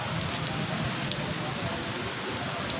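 Steady rain falling on a road in Faisalabad, a constant hiss of drops on hard surfaces with a few sharper nearby splats.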